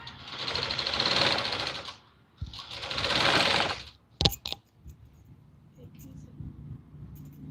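A sewing machine stitches a Patiala salwar in two sustained whirring bursts, followed by a couple of sharp clicks and quieter handling.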